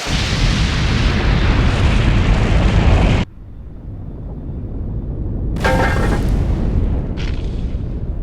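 A loud, sustained blast roars from a girl's self-detonation in an anime story, a dense rumbling explosion for about three seconds that cuts off abruptly, followed by lower rumble and two further bursts of crackling debris.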